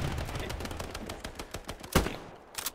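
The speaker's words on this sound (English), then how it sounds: "Why am I getting shot in the ass?" Rapid bursts of gunfire strike the player in a tactical shooter game, a dense run of sharp cracks with one louder hit near the end.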